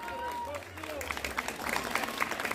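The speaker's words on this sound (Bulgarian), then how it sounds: "Отново бурни аплодисменти" Stormy applause from an outdoor audience at a village festival in Debnevo near Troyan, Bulgaria, with dense clapping building and holding steady under music with a sung melody.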